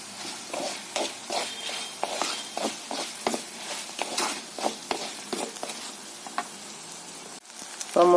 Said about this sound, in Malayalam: ഇനിയിപ്പോൾ നമ്മൾ പയ്യെ ലോ ഫ്ലെയിമിലിട്ട് ഒന്ന് വഴറ്റിയെടുക്കണം